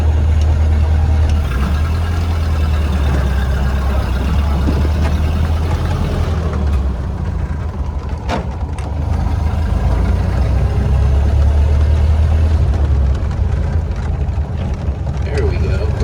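The engine of a 1931 Ford Model A pickup rumbles low and steady throughout while people talk over it inside the cab.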